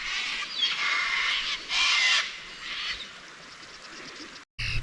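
Bare-eyed cockatoos screech harshly and continuously at a camp-out, a loud, raspy chorus close by that swells in bursts, then breaks off briefly just before the end.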